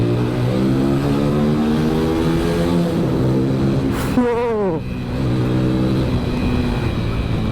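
Apache motorcycle engine held at a steady hum, then a quick rev blip with rising and falling pitch during rev matching, settling back to a close, continuous drone; riding noise throughout.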